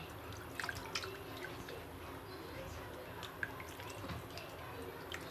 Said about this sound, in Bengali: তালটা এখন প্রথমে ধুয়ে নেব, পরিষ্কার পানি দিয়ে সুন্দর করে তালটা আগে ধুয়ে নেব।